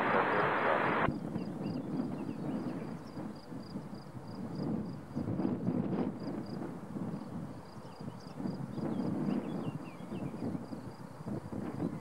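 A Breitling Lockheed Super Constellation propeller airliner takes off at Geneva airport. A steady, broad engine roar rolls on for the whole stretch, with wind buffeting the microphone and no clear talk.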